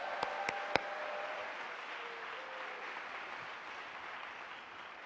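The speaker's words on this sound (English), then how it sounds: "let's give heaven a big round of applause and congratulations" Audience applause at an international leadership conference, a faint, steady wash of distant clapping with a few sharp louder claps near the start.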